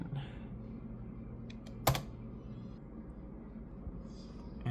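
A burst of quick clicks from a computer keyboard as a short command is entered on a Windows PC, close and quiet, with one louder key strike partway through and no voices.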